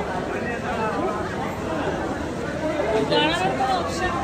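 A dense, continuous babble of many voices fills Howrah railway station, a busy crowd chattering all around with no single voice standing out.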